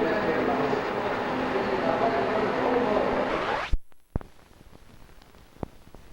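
A Paris Express subway train rumbles steadily with broad, continuous roar before cutting off abruptly, followed by a few sharp clicks and quiet.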